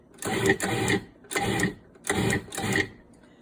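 A food processor pulses pie crust dough in four short, loud whirring bursts separated by brief pauses, close and with no talking.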